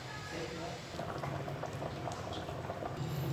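Chicken simmering in a full pot gives a steady bubbling boil, close and continuous, with faint voices murmuring in the background.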